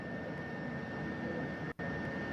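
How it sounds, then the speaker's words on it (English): Helicopter rotor heard from aboard a filming helicopter over the ocean during the Artemis II return: a steady, muffled, droning engine-and-rotor roar, constant and close, with a brief dropout near the end. "the video we're getting is from a helicopter. I can hear the rotor now"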